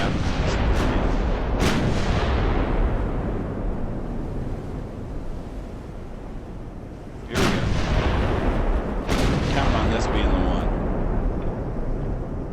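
Heavy 16-inch high-explosive shells from Ultimate Admiral: Dreadnoughts strike a thinly armored warship in a naval battle, with sharp booming impacts at the start and near the middle over a constant loud rumble of gunfire and sea.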